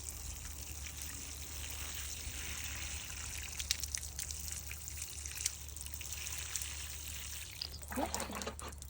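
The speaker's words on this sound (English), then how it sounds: "Just watering until you start seeing the water come out from the bottom." Water poured steadily over compost in a seed cell tray holding dahlia cuttings, a continuous soft trickle and patter throughout, close by, with faint voice sounds near the end.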